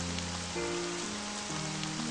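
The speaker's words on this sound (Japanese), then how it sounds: "めちゃくちゃ雨じゃん" Heavy rain falling in the horror game Chloe's Requiem, a steady hiss of downpour that runs the whole time under sustained low background music, with no talking.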